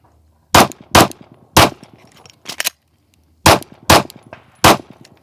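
Pistol shots in a timed stop-and-go shooting drill: seven sharp, loud reports in two quick groups separated by a pause, with a fainter pop between them and clanging echoes after each.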